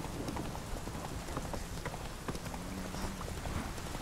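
Hooves of Roach, Geralt's horse in The Witcher 3, clip-clop at a steady trot through pouring rain, the rhythmic clatter close and continuous over a dense hiss of rainfall with no speech.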